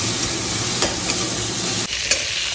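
Vegetables, cauliflower and potato with ginger, are stirred and sautéed in a hot pan, giving a loud continuous sizzle broken by a few scraping clinks of the spoon.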